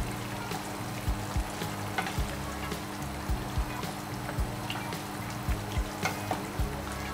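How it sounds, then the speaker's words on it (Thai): Thai curry with kaffir lime leaves, a tepo and Chinese sausage curry, being stirred as it simmers in a pot, with soft bubbling and a steady run of short scraping strokes over a constant low hum. "จากนั้นคนอีกสักรอบนึงครับคุณผู้ชมครับแล้วเราก็จะเคี่ยวเขานะครับ"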